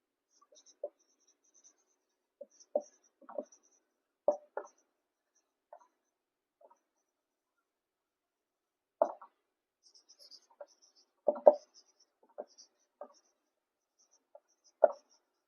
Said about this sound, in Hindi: पहले मैं लिख देती हूँ